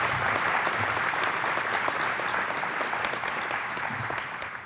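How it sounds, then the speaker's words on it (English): Steady audience applause at an agency-level honor awards ceremony for NASA achievements, a full room clapping evenly and fading slightly toward the end. "Could we please have a round of applause for our scientific achievement?"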